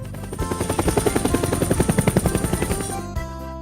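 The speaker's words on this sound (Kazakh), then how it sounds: "Тікұшақ." A helicopter's rotor thumps in a fast, steady rhythm, close and loud, then cuts off abruptly near the end.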